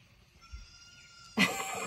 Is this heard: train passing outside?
no